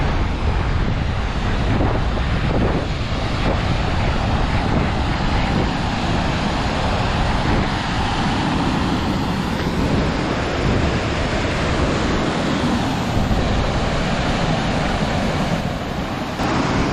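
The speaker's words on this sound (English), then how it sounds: "wind is not that strong" Strong wind buffets outdoors beside a lake in a constant loud roar, with the wash of waves blended beneath and no voices.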